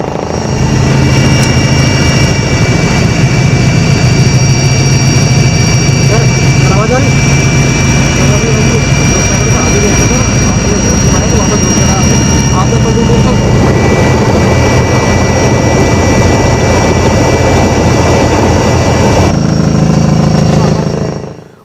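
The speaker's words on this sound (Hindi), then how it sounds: "उसके बाद देखिए चिनूक हेलीकॉप्टर उतार दिया गया है" A Chinook helicopter landing in a disaster-hit area, its rotor and engine roar loud and steady throughout, a broad continuous drone that cuts off abruptly near the end, with a voice talking over it.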